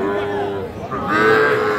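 Cattle, small bulls and heifer calves, low and bellow at a busy Raniganj livestock market in Ghoraghat, Dinajpur, with a drawn-out moo rising near the end over a steady market background.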